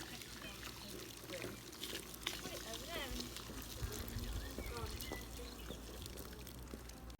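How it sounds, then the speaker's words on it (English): Boiled water poured steadily into a bucket, a continuous splashing gush under nearby talking, with occasional bird chirps in the background. "I'll fill that bucket up with the boiled water and then top it off with cold water"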